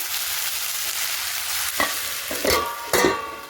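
Slit green chillies and salt are stirred in a frying pan, a steady hiss of frying broken by three distinct scraping strokes of the spatula toward the end, close and clear with no talking.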